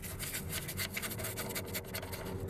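Quick back-and-forth scrubbing strokes on a greasy, dirty front car wheel, a fast rhythmic brushing rasp heard up close at moderate volume.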